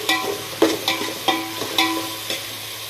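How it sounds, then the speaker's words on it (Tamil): Vegetables and tomatoes sizzle in a hot pan for veg biryani while a spoon scrapes and stirs in regular strokes, five or six clear scraping beats over a constant fry. "சேர்த்து நல்லா வதக்கி விட்டுக்கலாம்"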